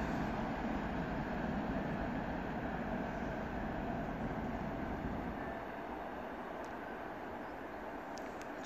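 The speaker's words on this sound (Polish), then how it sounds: "ET41-102 PKP Cargo z węglarkami w stronę Żor." An ET41 electric locomotive of PKP Cargo hauls coal wagons past, a faint, steady rumble and rolling rail noise heard from a distance that fades slightly toward the end.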